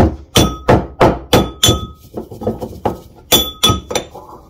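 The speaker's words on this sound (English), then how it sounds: "I'm just going to keep pounding away until they get a little bit smaller" Pieces are pounded in a pestle and mortar, about a dozen hard, clinking strikes in a steady rhythm, close and loud, with no talking.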